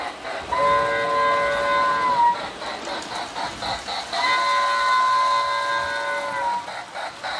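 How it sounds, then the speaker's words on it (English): A toy train whistle sounds twice in two-tone electronic blasts over a running mechanical rattle and hiss, close and moderately loud. "It does have an electronic whistle to it."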